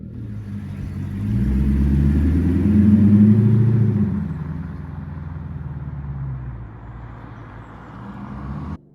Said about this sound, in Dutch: Het betreft een 5 liter V8 motor ontwikkeld in samenwerking met de Formule 1 tak van Yamaha.